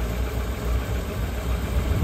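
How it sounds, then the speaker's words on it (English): A boat engine that had been cutting out runs again after a carburetor adjustment, holding a steady, continuous low idle close by for the whole stretch with no talk over it. "So I've just had a little play about with carburetor. It's running."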